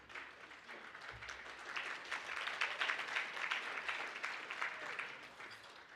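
An audience at a community centenary celebration applauds with steady, sustained clapping that fills the room for several seconds, swelling slightly in the middle and tapering off toward the end.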